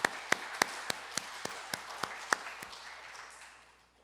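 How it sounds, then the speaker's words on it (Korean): A church congregation gives a slow, sparse round of claps for the teachers, about ten evenly spaced claps that fade out toward the end. "우리 모든 교사분들에게 우리 감사의 박수를 보내도록 하겠습니다"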